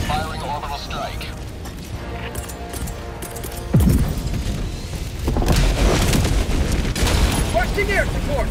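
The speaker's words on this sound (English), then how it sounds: "Firing orbital strike." Orbital strike explosions in the Helldivers 2 video game hit as a heavy boom followed by a rolling barrage of blasts and rumbling impacts, loud and close, with radio-style character voices over the top.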